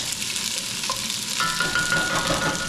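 Onion frying in a pan over medium heat, a steady close sizzle and crackle, with a light scrape of stirring partway through.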